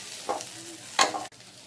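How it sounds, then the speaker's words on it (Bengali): Onions frying in a pan, with a soft sizzle underneath and two brief stirring scrapes, quiet and close. "পেঁয়াজটা সুন্দর করে ভেজে নিচ্ছি"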